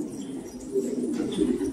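Soft, low pigeon cooing repeats steadily at close range, with a faint background hiss and no talking.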